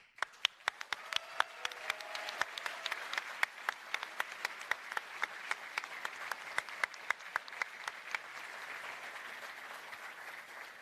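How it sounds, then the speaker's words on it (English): Sustained applause from a graduation ceremony audience honoring parents, a dense wash of many hands clapping with a few sharper nearby claps standing out, steady throughout and without talk. "A big applause to our parents."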